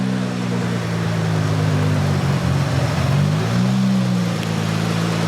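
A retuned Nissan R34 GTR engine drones loudly and steadily, its revs dipping and rising again midway through a sustained pull, close and continuous with no speech.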